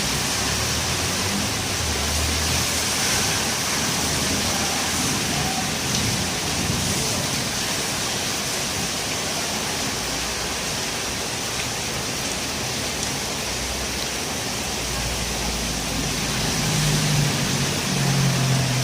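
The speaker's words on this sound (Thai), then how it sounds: "ฝนก็เริ่มจะหยุดแล้วนะครับผม" Easing rain falls in a steady, even hiss across open ground, continuous and fairly loud throughout, with no clear break in the patter.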